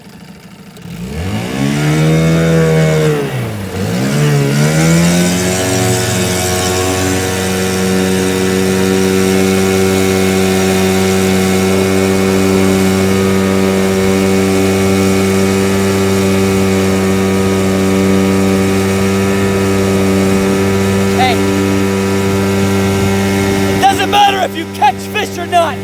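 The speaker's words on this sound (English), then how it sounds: "motor's running flawlessly" An Evinrude 9.9hp outboard boat motor on Round Valley starts up, revs briefly, then settles into a steady, loud droning hum that runs unbroken for a long stretch before ending with a few clunks.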